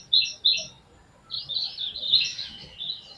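A small bird chirps twice in quick high notes, then gives a longer twittering phrase, faint and outdoors against light background noise.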